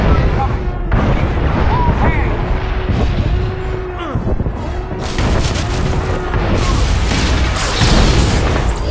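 Incoming fire strikes a starship in SWTOR during the Esseles mission, with repeated booming explosions and impacts over a steady alarm-like tone, loud and continuous, with brief bursts of voice among the blasts.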